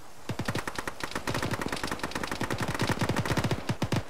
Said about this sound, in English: That sounds like hostile fire coming this way.